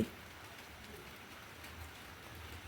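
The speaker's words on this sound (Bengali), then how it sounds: "বৃষ্টি নেমে গেছে রাত্রিবেলার দিকে বৃষ্টি পড়ছে" Soft, steady rain at night patters continuously in the background, faint and even, with no voices.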